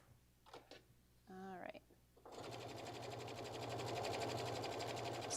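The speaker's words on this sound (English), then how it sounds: "So again, I'm just basting this down." A sewing machine basting fabric onto a bag runs steadily and loudly after a few seconds of brief talk, its rapid even stitching rhythm continuing to the end.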